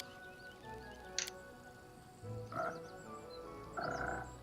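A frog croaking in Pathfinder: Kingmaker, a few soft, widely spaced croaks and a sharp click, faint and quiet against a low background with no talk.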